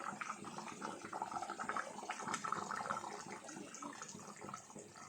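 Coconut milk is poured into a simmering Sankara fish curry, a continuous soft liquid pour and bubbling that swells slightly in the middle, close but fairly quiet.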